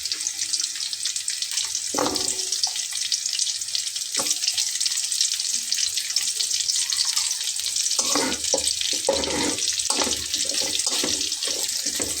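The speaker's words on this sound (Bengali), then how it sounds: "অর্থাৎ আলুগুলোকে আমি একটু ভেজে নেব।" Potatoes frying with onions in a pan for a Bengali fish curry make a constant hissing sizzle, loud and near, with occasional utensil clatters and stirring scrapes bunching toward the end.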